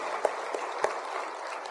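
A church congregation claps together during a Sunday service, a dense, even patter of many hands at moderate distance, fairly soft and sustained across the whole moment.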